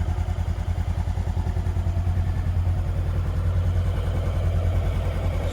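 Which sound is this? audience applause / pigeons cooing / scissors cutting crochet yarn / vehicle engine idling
vehicle engine idling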